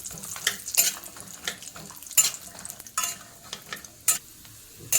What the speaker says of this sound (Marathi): हे आको ते पण चांगले तुपात भाजून घ्यायचे